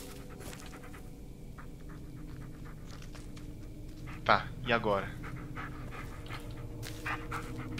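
Bullet the dog pants steadily and quickly in the video game Blair Witch, a soft breathy rhythm running the whole way under ambient forest sound, while someone speaks briefly in the middle.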